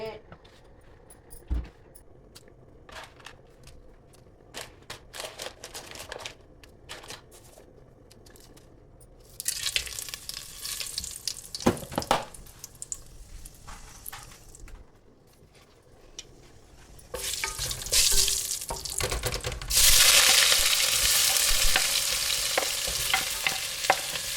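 Onions clatter and scrape in a hot pan at first, then a loud, rising sizzle of frying oil takes over and grows steadily stronger near the end.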